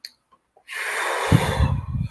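A deep, calming breath is drawn in slowly, a close, soft rush of air with a breathy snort toward the end, alone without talk.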